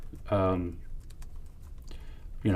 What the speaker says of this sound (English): But while you're typing that,